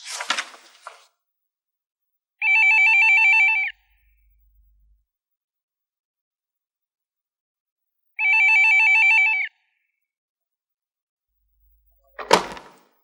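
Two bursts of an electronic telephone ring sound alone in a quiet room, evenly spaced several seconds apart, with a couple of brief knocks or thumps at the start and end.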